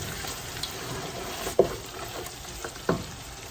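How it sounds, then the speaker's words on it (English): Powdered spices roasting and being stirred in a large stainless steel rondelle pot, a steady soft sizzle with a few sharp clinks of the spoon against the pot, close up and without talk. "Now our powdered spices are nicely roasted"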